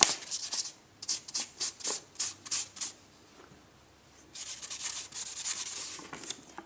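Ink pad rubbed in quick, scratchy strokes over the raised edges of an embossed paper envelope, a run of short brushing passes, then a pause, then another burst of rubbing, close and fairly quiet.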